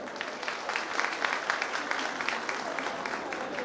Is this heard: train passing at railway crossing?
no